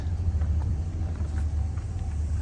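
A 1968 Chevrolet Camaro convertible with a 396 V8 rumbles at a steady low idle, a deep, even engine drone close by with no talking.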